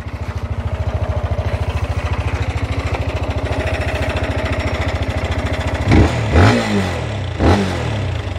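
A Sym VF185i motorcycle engine runs with a steady, even idle putter, then revs up sharply twice near the end, close and fairly loud, with no talking.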